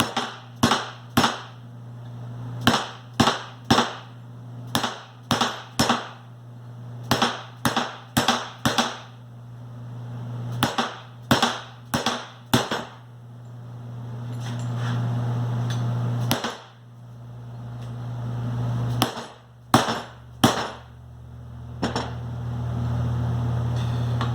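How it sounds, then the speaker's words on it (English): Sharp hammer blows driving Johnny Joint assembly pieces down at a table edge, loud close knocks in quick clusters of two to four strikes, separated by brief pauses over a steady low hum. "we're going to hang it off the side of the table and continue driving these pieces down"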